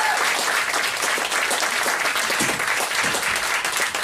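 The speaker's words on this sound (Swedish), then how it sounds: "Applåd" A live audience at a concert applauds, filling the room with dense, steady clapping that stays loud and even throughout.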